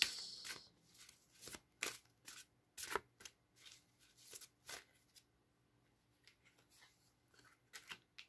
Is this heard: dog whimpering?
no